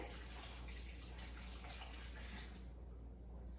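Salty liquid is poured into a cooking dish for a Rosh Hashanah dinner, giving a steady, faint trickling pour that tapers near the end, with no voices.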